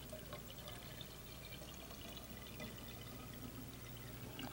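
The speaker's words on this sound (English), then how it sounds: "pour out the water." Water pours steadily out of a film developing tank, a continuous splashing trickle heard close and alone for several seconds.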